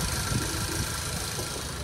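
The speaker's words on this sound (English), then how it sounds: "Four cylinder. Chugging away real nicely there." A 2012 Ford Focus Titanium four-cylinder engine idles steadily, a continuous low chugging rumble with no talk over it.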